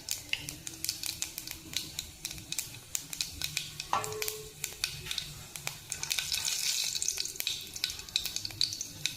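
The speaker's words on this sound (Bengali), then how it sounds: "গোটা মশলাটা আমি তেলে দিয়ে দিলাম" Whole spices dropped into hot oil in a pan, sizzling and crackling steadily with scattered sharp pops and stirring scrapes, fairly close and moderately loud, a denser sizzle swelling in the later seconds.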